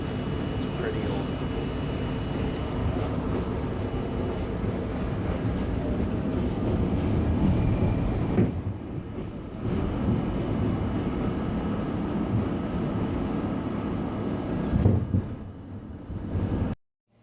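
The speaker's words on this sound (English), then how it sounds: "So right now I'm on the train." A steady low rumble and rattling hum fills the space from inside an old moving train carriage, with brief shifts in tone and no clear talk.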